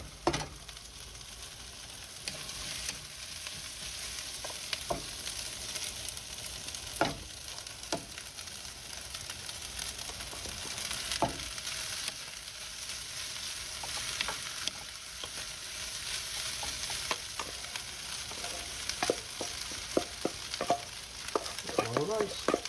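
Rice tossed into a pan of fried onions and garlic for Filipino fried rice sizzles steadily and softly close up, punctuated by irregular scraping and clinking as a utensil stirs it; no talking.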